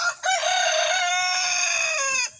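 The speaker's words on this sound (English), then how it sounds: "he started doing his noise whenever he sees a predator" A rooster sounds a long, loud harmonic alarm call at a possible predator, one sustained strained cry lasting about two seconds, close and alone with no talk.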